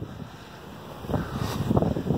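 Blizzard wind gusting outdoors, starting low and steady, then rising into louder buffeting rushes with rumbling microphone wind noise in the second half.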